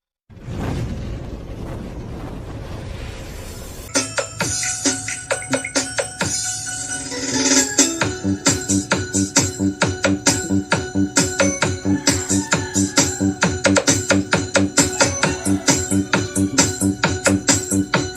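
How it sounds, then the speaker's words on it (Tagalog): Loud, bass-heavy electronic music with a pounding, steady beat, opening with a swelling intro before the driving rhythm kicks in, played outdoors through a small Aura Share BS01 portable speaker. "magsa-sound test tayo gamit yung music na bass boosted"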